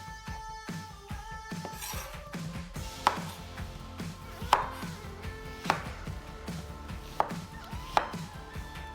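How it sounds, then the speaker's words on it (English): Onions get a rough chop with a knife on a cutting board: a series of sharp, distinct thuds spaced about a second apart, close and clear, over faint background hum with no voices. "So I just take rough chop with my onions here"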